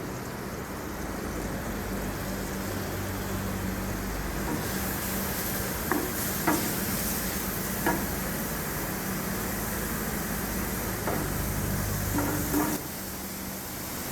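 Onion and garlic sautéing in melted butter in a pan for bouillabaisse, giving a continuous soft sizzle with a few sharp clicks of a spoon stirring against the pan.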